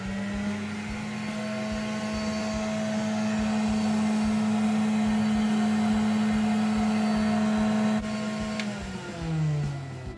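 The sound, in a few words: vintage Remoco Model A1 vacuum cleaner running as a shop vac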